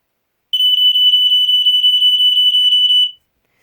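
A Square-D Earli-Gard EGD-5B smoke alarm emits a loud, piercing high-pitched tone pulsing rapidly and evenly for a few seconds, then stops abruptly into silence.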